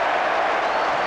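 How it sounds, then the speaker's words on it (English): Ironic applause ripples around the ground from the football crowd at a Norwich City v Liverpool match, a steady dense wash of clapping filling the whole moment. "Ironic applause from around the ground"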